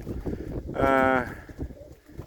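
A racing pigeon in a loft gives a single drawn-out coo at close range, with someone talking and soft background noise around it.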